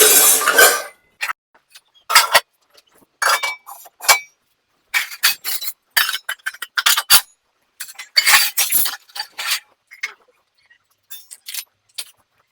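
Metal utensils and dishes clink and clatter in irregular bursts, with brief silences between the clanks as items are handled and washed.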